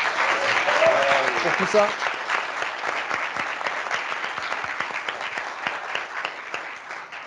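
An audience applauds at a live-streamed Java versus NodeJS developer clash event, with sustained crowd clapping that starts loud under a brief voice and then settles into steady, slightly fading applause.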